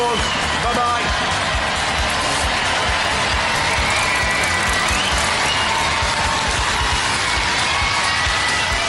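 A studio audience at a robot combat show applauds and cheers loudly, a dense, continuous roar of clapping and crowd noise with a voice talking over it.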